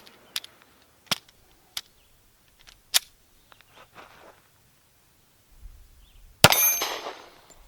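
Several sharp metallic clangs of pistol rounds striking a steel plate target, spaced irregularly over the span, with a louder, longer ringing impact near the end; the Rock Island BBR 3.1 handgun fires outdoors at a distance.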